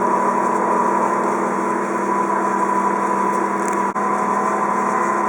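Ankarsrum Assistent Original stand mixer running while kneading dough, a loud steady motor hum with a constant tone, close and continuous, with one brief dip and no talking.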